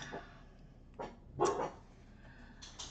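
A dog barks at a passing trash truck, a few separate barks spread over a few seconds, moderately close and fairly loud against a quiet indoor background.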